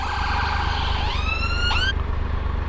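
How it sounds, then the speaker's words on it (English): An ambulance siren wails loudly close by, its rising and falling electronic tone sweeping upward before cutting off abruptly over a steady traffic rumble. "Just wait for this ambulance to go by."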